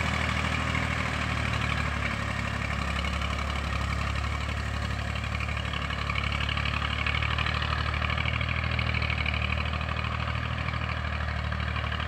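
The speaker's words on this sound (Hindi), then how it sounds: "ये चलाना भी बड़ा काम है ट्रैक्टर।" A tractor engine idles on a farm field before onion sowing, giving a steady, continuous low rumble that stays close and even throughout with no talk.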